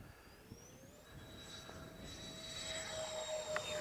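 An RC model airplane takes off, its electric motor whine rising steadily in pitch and growing louder over a few seconds against faint outdoor background noise.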